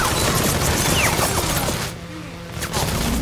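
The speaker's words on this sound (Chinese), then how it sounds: "目标丢失后，无人机也停止了射击，汤姆拿起狙击枪就往客厅跑去" Rapid, dense gunfire from a drone during a film action scene, a loud continuous barrage that breaks off briefly before resuming.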